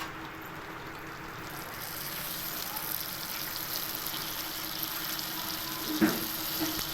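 Quiet, steady sizzle of fish curry frying in a pan, a continuous soft hiss with a faint scrape of stirring toward the end.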